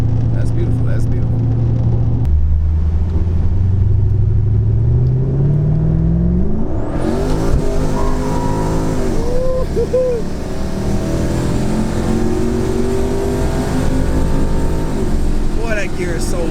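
A turbocharged Pontiac G8 accelerates hard, its engine note climbing steadily through the revs and then shifting into a long, loud pull with turbo whine. People talk over it throughout.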